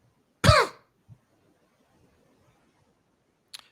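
A single sharp cough or throat clear close to the microphone, followed by a faint brief second sound and then near silence, with a tiny click at the end.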